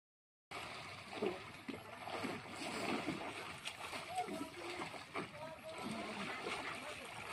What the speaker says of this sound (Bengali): আমরা সাঁতার কাটিমু।